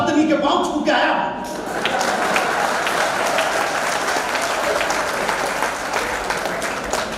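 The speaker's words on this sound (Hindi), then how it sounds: "और आप लोगों को तालियां बजानी ही होगी।" Audience applause fills a comic poetry gathering at a university in Udaipur, a dense, steady wash of many hands clapping throughout, with a voice speaking briefly near the start.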